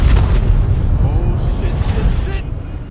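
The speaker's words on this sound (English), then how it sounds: "I think it was a bomb." A loud, dense roar of a bomb explosion in Fallout New Vegas, sustained and rumbling throughout with debris-like crackle, slowly fading toward the end.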